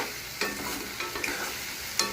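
Fried potato pieces being stirred into a sizzling gravy for potato 65, with a steady close frying hiss broken by a few sharp scraping clinks of the spoon against the pan.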